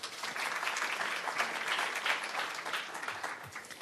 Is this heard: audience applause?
yes